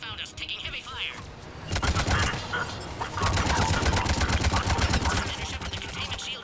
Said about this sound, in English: Commander Cerberus found us, taking heavy fire